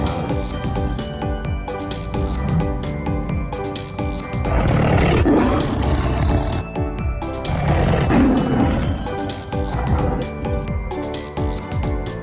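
A tiger roars repeatedly, deep rumbling roars rising and falling in two or three long swells, loud and close with no speech.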